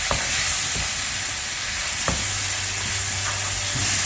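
Spicy egg masala sizzles loudly and continuously in a pan after a splash of water, with a few scraping strokes of a stirring utensil cutting through the steady hiss.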